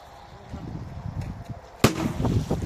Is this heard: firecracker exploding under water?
yes